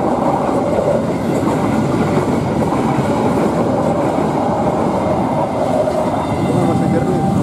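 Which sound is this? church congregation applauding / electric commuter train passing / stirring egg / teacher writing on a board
electric commuter train passing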